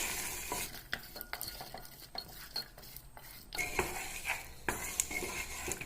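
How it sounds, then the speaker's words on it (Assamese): Peas are stirred into tomato masala in a frying pan, a spoon scraping and tapping against the metal in an irregular rhythm over a faint sizzle, close and quiet. "আৰু ভালদৰে লৰাই ল'ম।"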